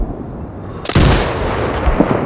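A single loud, sharp sniper rifle shot from the video game Sniper Ghost Warrior Contracts 2 cracks out, then rolls into a long booming echo over a steady outdoor ambience.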